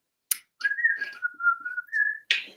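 Someone whistles a melody, a short clear tune of sliding pitched notes, close and alone, with a couple of sharp clicks at the start and end.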